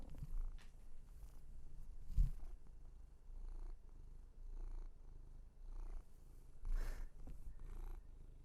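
A black cat purrs softly and steadily up close, the rhythmic rumble pulsing through the whole stretch with occasional small rustles; no talking.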